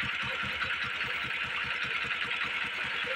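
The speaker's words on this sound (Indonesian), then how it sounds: "Ternyata motornya hidup" A Yamaha Jupiter MX motorcycle with an ignition fault idles up close, its engine giving a steady, rapid thumping pulse under a continuous mechanical whir, unbroken throughout.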